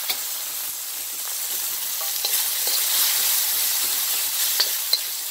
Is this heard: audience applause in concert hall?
no